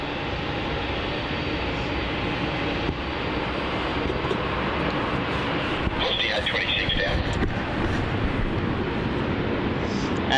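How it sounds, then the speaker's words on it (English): Jetstar airliner JQ 568 roars down runway 27 at Melbourne Airport on its takeoff roll toward Brisbane, a loud, continuous broadband rumble that builds slightly, with indistinct voices beneath it. "we've got a takeoff on runway 27. JQ 568 about to take off to Brisbane"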